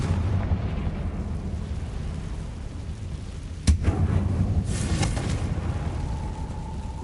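The Confringo blasting curse in Hogwarts Legacy goes off as a sharp explosive crack over a rumbling low background, followed by scattered softer bursts and a faint rising tone.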